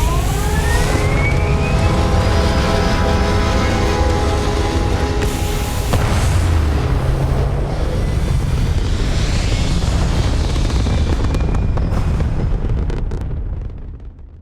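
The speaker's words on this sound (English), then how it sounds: "Full thrusters firing." Spaceship thrusters in Starfield firing at full power, a loud sustained roaring rumble with rising whine and booming bursts that holds steady then fades at the end, with no talking.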